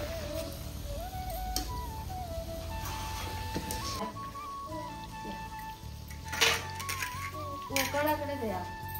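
Plates and dishes handled in a home kitchen during a family meal, with scattered clinks and clatters of tableware under a steady background of music and occasional voices.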